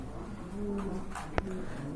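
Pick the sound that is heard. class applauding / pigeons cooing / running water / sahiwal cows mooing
pigeons cooing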